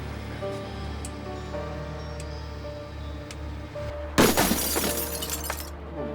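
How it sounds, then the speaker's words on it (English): A bomb robot's water cannon disruptor fires a water-pressure slug through a window, a sudden loud burst of shattering glass with crackling debris that tapers off over a second or so after a steady low background hum. "The technicians then activated the robot's water cannon disruptor, which fires a slug by water pressure rather than gunpowder"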